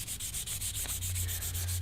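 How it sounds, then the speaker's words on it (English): Steady rasp of 220-grit sandpaper rubbed across a wooden plank, a continuous close scratching with regular back-and-forth strokes and a low hum underneath. "the 220 is really sanding this nice and smooth, but it's taking forever"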